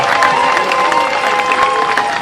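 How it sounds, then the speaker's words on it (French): A large crowd at a Congolese political gathering claps and cheers loudly, a dense roar of applause mixed with voices, with a sustained tone running beneath. "que je vous demande d'applaudir très fort"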